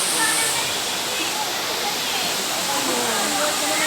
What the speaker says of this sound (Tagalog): Ito yung bottom waterfalls.